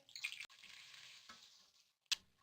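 Crushed roasted cumin, coriander and black pepper fry and stir in hot oil, a brief sizzling hiss with a sharp clink of a spoon near the end, quiet and close with no talking.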